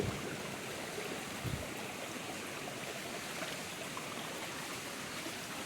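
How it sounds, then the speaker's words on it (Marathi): Stream water flows steadily near a waterfall, a broad continuous rushing wash with no pauses, moderately quiet and even, with no voices. "इकडे पण पाण्याचा आहे चालू आहे प्रवाह"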